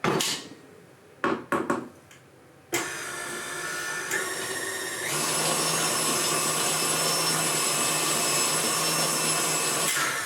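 An electric mixer beats cake batter after a few short bursts, then runs continuously as a loud, close, steady whine that grows denser and rougher partway through the mix.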